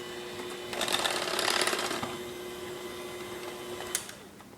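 Electric mixer whirring through cupcake batter, a steady motor drone that swells mid-clip and then settles into a softer hum, with a brief clack near the end.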